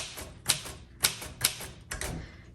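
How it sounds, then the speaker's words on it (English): Keys strike on a 1938 Royal Model O manual typewriter, a handful of sharp, close clacks at an uneven, unhurried typing pace with soft mechanical rattle between them. "We're gonna roll a piece of paper in here, and we're gonna start typing."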